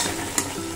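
Spice paste for a Bengali katla fish curry is stirred and sautéed in a hot pan, giving a short, steady sizzle with one brief scrape of the spoon.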